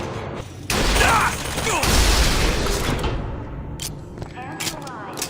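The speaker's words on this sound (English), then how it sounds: "So it's a hand cannon, not a magnet." Heavy hand cannon shots in Bioshock Infinite: Buried at Sea, a couple of loud booming blasts followed by clattering impacts and rumbling game effects, with a voice speaking over the action.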